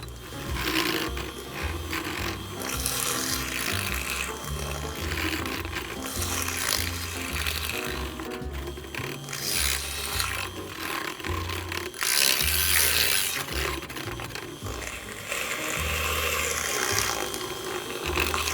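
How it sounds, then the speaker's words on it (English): A small handheld milk frother whirs steadily as it mixes bread batter, giving a continuous loud mechanical buzz with a rattling, grinding edge that runs unbroken for the whole stretch, with no voices. "I'm going to use my little milk frother again and make sure that everything gets really well combined."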